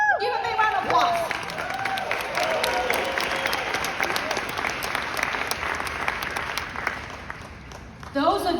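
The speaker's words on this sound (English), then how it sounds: "Give a big round of applause." A training-session audience breaks into sustained applause, a dense wash of many hands clapping at steady loudness for several seconds, with brief voices and cheers at the start and a swell near the end.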